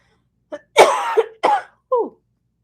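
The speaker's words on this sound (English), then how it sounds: "I'm so sorry to be coughing on the live with you guys" Several harsh coughs close by, one short, then a longer rough burst, followed by two more separate coughs with brief gaps.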